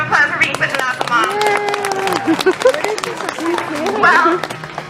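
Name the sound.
zoo audience applause at sea lion show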